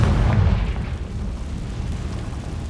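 Confringo explosive spell cast in Hogwarts Legacy: a deep, heavy boom at the start that settles into a low rumbling decay, fairly loud and with no voices.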